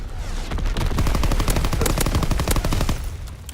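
Rapid automatic gunfire in a first-person shooter video game, dense bursts of close, loud shots rattling almost without pause for a few seconds.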